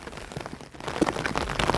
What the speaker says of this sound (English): it's been raining pretty heavy